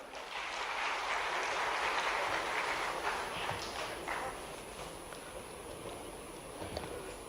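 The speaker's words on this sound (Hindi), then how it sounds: "आपसे अनुरोध करूंगी जोरदार तालियों से उनका स्वागत करें" Audience applause in the Kushabhau Thakre auditorium in Bhopal welcoming a state tourism department official; a dense, steady wash of many hands clapping, fairly distant, tapering slightly toward the end.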